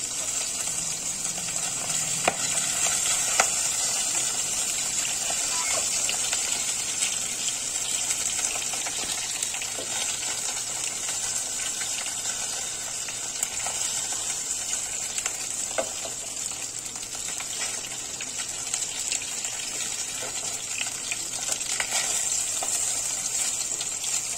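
Pieces of katla fish frying in hot oil give a continuous, even sizzle close by, with faint stirring sounds now and then and no voices throughout.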